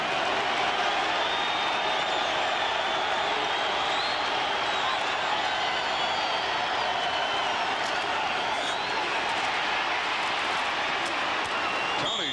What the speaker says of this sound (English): We have a machine here to measure the crowd noise here in the Kingdome.